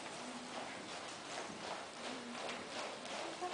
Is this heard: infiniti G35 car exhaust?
no